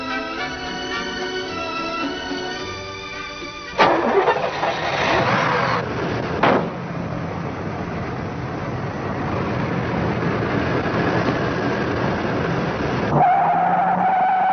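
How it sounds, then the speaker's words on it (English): A 1972 Buick Centurion with a 455 cubic inch V8 and four-barrel Rochester carburetor accelerates hard, a loud rising engine roar with tire squeal that holds steady and close throughout. "When our driver wound it up and put his foot in it, she ran up to 30 in 3 seconds flat."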